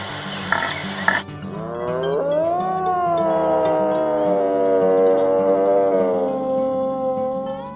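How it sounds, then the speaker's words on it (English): A Russian deer gives a long, drawn-out tonal call that rises and then slowly wavers and fades, loud and close, after a brief rustle at the start. "These are the sounds the Russian deer makes."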